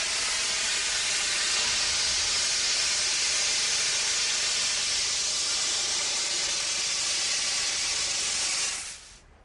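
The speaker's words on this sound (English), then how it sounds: "If I open the valve, it'll shoot out of this pipe and evaporate very rapidly back to a gas" Liquid refrigerant blasts from an opened valve through a pipe, flashing into gas as a loud, steady broadband hiss that holds for about nine seconds before cutting off abruptly.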